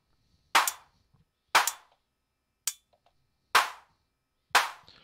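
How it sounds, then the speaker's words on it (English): Five separate claps from a Weston Audio AD110 analog drum Eurorack module, each a sharp burst with a reverb tail, spaced unevenly apart with silence between. "I should be able to get a clap"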